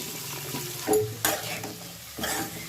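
Marinated paneer gravy mix tipped into hot oil, a soft steady sizzle with a few louder scraping stirs and light pan clatter, close by with no one speaking.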